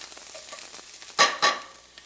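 Sliced garlic sautéing in a pan, a soft low sizzle with two brief louder scrapes of a utensil stirring near the end.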